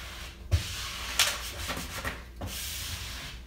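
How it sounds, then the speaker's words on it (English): A squeegee pressing architectural finish film onto the end of a cabinet gives a soft, steady rubbing and sliding hiss, with a few faint taps and bumps along the way. "I'm putting a little pressure on the squeegee"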